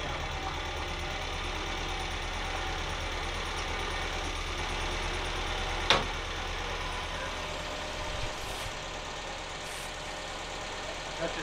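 A 1975 fire truck engine idles steadily with a low, even rumble, continuous and fairly close, with a brief clank partway through.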